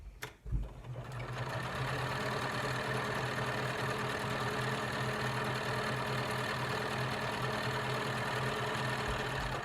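A domestic sewing machine runs steadily at constant speed while stitching a pleated fabric face mask, a close, continuous whirring hum with rapid needle clatter that starts after a brief click and continues without a break.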